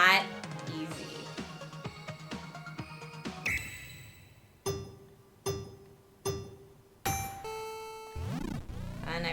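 Chime tones from the Nintendo World Championships NES game ring out in a short series of separate ding-dong notes after quick game blips, clear and fairly loud with a speaking voice.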